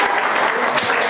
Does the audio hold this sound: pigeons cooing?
no